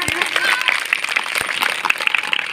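Audience at a Bhim Army rally claps loudly in honour of Babasaheb Ambedkar, a dense, steady patter of many hands that carries on throughout with voices mixed in.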